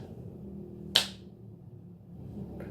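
A single sharp clap-like smack, a person imitating the Icelandic fans' viking thunderclap chant from the World Cup, standing alone against a quiet room hum.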